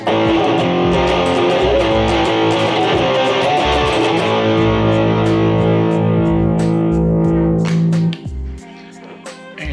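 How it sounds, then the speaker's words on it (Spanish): An electric guitar on its bridge pickup, driven through distortion, plays loud sustained chords and picked notes for about eight seconds before a softer decaying ring; no voices are heard. "Reacciona muy bien con la pastilla del puente, con una distorsión"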